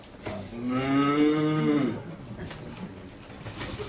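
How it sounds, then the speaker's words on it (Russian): A cow gives one long, loud, drawn-out moo close by, lasting nearly two seconds, followed by quiet room noise. "И вот украинские коровы мычат точно так же"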